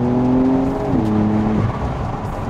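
Porsche 911 992 Carrera 4S with an 8-speed gearbox accelerating hard, a loud engine note climbing and then dropping as gears change in quick succession, close up with no voices.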